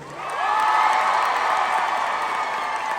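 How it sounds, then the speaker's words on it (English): A concert crowd at a show in Detroit applauds and cheers loudly and steadily, a dense wall of clapping and shouting that swells early and holds for the whole stretch. "Enormous round of applause."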